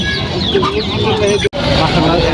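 Young desi chicks pecking greens at a poultry market stall, a dense chorus of close, high chirps and peeps over a busy crowd hubbub, with people talking nearby.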